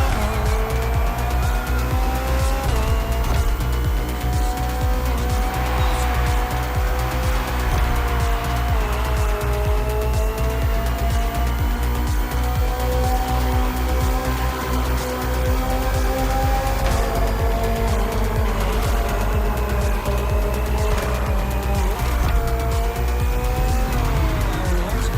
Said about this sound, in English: The BMW M Hybrid V8. What a beast.